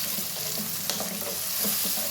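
Dry prawns with chopped onions and green chillies fry in a pan, a steady loud sizzle with scraping stir strokes, close and alone without talk.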